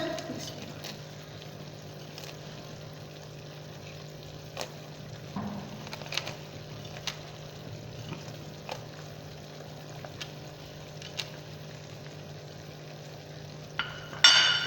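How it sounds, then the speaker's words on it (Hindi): Almonds, pistachios, cashews and walnuts roasting in ghee for Multani sohan halwa, giving a faint, steady sizzle with occasional light clicks of a spoon stirring, quiet and close. "साथ हम ये भी भूनते जाएंगे इनको भी।"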